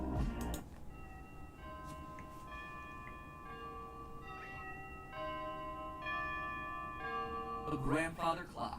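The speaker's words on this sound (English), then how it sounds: "A grandfather clock, chiming the same song every time." A grandfather clock chimes its fixed melody at the end of a night in the Five Nights at Freddy's video game, a sequence of clear, ringing bell tones sustained in order, with a brief noisy burst at the start and end.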